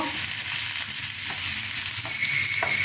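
Chopped onions sizzle in a hot pan, a constant nearby frying hiss broken by a few faint stirring clicks, with no one speaking.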